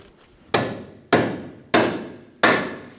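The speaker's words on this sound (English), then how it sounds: "Using a soft face hammer, we're gonna tap it in" Four sharp, evenly spaced soft-face hammer taps seating a ball joint on a 2010-2014 Subaru Outback front control arm, each a solid knock with a short decaying tail, about half a second apart.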